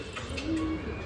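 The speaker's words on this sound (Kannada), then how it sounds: "ಪಕ್ಷಿಗಳು ಇದೆ ಅಲ್ಲ ಅಲ್ಲಿ" Pigeons or doves coo softly in a low, murmuring call over a steady outdoor background, close by and continuous for about a second, with no one talking.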